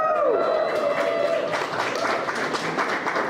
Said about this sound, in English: the EllisDon team that's clapping for me